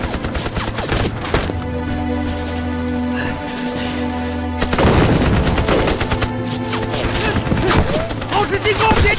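Dense war-movie gunfire: rapid machine-gun bursts and overlapping shots fill the whole stretch, loud and continuous, with a heavier surge partway through and shouted voices mixed under the battle din.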